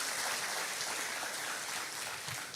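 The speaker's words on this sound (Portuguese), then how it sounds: "Vamos dar um aplauso ao Senhor" A church congregation claps together in a dense, steady wash of applause that holds evenly for a couple of seconds at a moderate, somewhat distant level.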